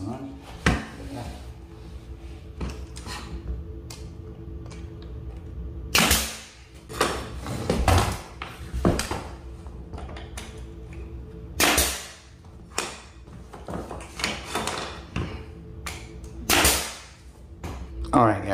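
Small nails driven into quarter round trim at a floor's inside corner, heard as a handful of sharp, separate impacts spread through the stretch, close and fairly loud, with quieter handling noise and murmured speech between them.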